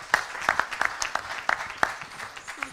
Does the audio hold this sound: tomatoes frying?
no